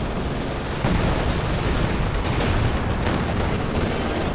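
Machine gun fire echoes across a large 4v4 battle in the real-time strategy game Company of Heroes 2, a continuous crackling volley of gunshots mixed with distant artillery rumble and no talking.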